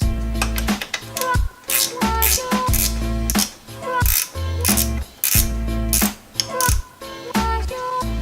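A ratchet clicks steadily in repeated strokes, threading a bolt into the turbo manifold on a Miata, loud and close, with brief pauses between each run of pawl clicks.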